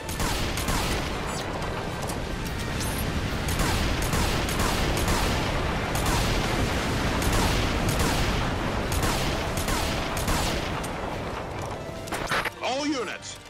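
Sustained gunfire and explosions during an air raid in the video game Earth Defense Force 5, a continuous dense barrage of rapid shots that stays loud throughout, mixed with game voices and ending in a swirling whoosh.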